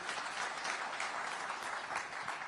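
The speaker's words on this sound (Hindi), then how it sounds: "तालियों के साथ उनका स्वागत कीजिए" An audience applauds steadily to welcome Uttar Pradesh Chief Minister Yogi Adityanath at a televised event, a dense, even wash of clapping heard at a modest, distant level with no break.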